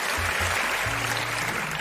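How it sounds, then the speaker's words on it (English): A game show audience applauds, a brief steady burst of clapping filling the whole moment. "let's give a warm round of applause for"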